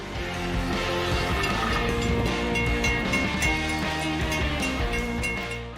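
A train ploughing through deep snow, throwing up a wave of snow, with a steady loud roar and grinding rumble that holds evenly throughout, no voices.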